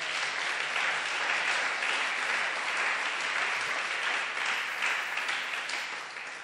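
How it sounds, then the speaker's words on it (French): Church congregation applauding and cheering after a sermon line about Israel's God, a dense, steady roar of clapping and voices that fills the room continuously and eases off slightly at the end. "Est-ce qu'on peut acclamer cette parole?"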